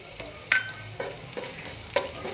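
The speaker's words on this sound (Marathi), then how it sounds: "त्याला थोडंसं फ्राय करून घेऊ" Sliced garlic cloves frying in olive or plain oil in a pan: a soft, quiet sizzle punctuated by a few sharp spoon clinks and scrapes as it is stirred.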